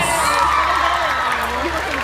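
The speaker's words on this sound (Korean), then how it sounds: "Por favor, un aplauso para el staff que se está esforzando." A concert crowd in Peru cheers and shouts steadily for the staff at a show, a dense continuous roar of voices with whoops rising over it and no distinct clapping standing out.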